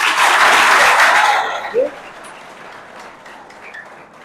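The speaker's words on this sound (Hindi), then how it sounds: "तो इसके लिए आप तालियां बजा सकते हो" An audience at a school health talk in Mathura bursts into loud applause that lasts about a second and a half, then quickly dies away into a quiet room.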